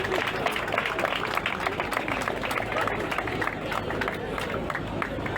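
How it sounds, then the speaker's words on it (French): A gathered crowd of public administration workers claps at a meeting as comrades are called forward, with sharp individual claps standing out over a busy bed of applause and murmuring voices. "Sous vos applaudissements."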